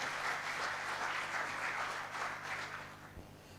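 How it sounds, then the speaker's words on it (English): Audience at the 2nd Pakistan Internal Audit Summit applauding a speaker's introduction, a steady wash of many hands clapping at moderate distance, holding even before thinning toward the end. "Junaid, please give him a big round of applause"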